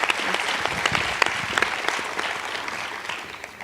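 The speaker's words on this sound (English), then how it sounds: "so please, another round of applause" An audience at a peace lecture claps for a few seconds, dense scattered handclaps forming steady applause that fades slightly toward the end, heard at moderate distance with no voices over it.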